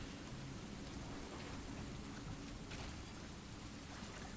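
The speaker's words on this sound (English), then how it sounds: "Why are there storm noises in the background?" Steady rain with distant thunderstorm rumbles forms a calm ambient bed, continuous soft hiss of falling rain with low rolling thunder underneath.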